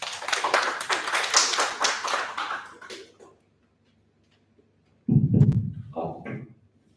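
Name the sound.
applause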